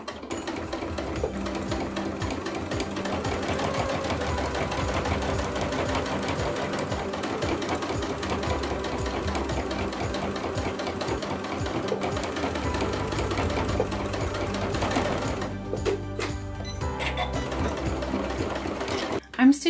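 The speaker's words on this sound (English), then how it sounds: "I'm stitching through 4 layers of batting and 2 layers of fabric" A sewing machine stitches steadily through four layers of batting and two layers of fabric on slippers, a fast, even mechanical clatter running close and continuous, then breaking into a few stops and restarts near the end.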